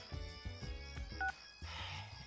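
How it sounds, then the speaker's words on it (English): Cell phone ringtone from the video game Persona 4 Arena Ultimax, a short melodic electronic tune of repeating tonal notes with bright harmonics, echoing clearly with no speech over it. "suddenly my ringtone echoes out into this empty place"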